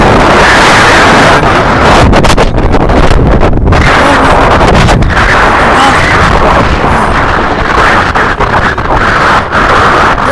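Loud, roaring gusts of wind from a rain storm at a beach buffet the microphone in heavy bursts, with a constant storm-like rush and no clear voices.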